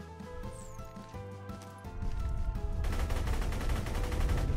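In the video game Borderlands 2, a gun fires a rapid burst of shots over game music, the volley growing louder and denser in the second half.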